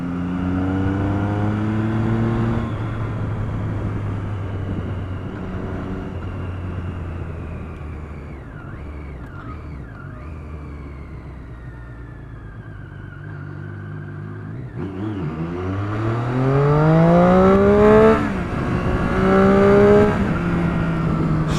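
A Triumph Street Triple 675 with its stock exhaust runs loud and close, holding a steady engine note, dropping away briefly, then climbing through a rising rev that sweeps upward and eases off, with no voices.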